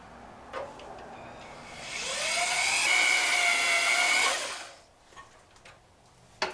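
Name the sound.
drill bit drilling into metal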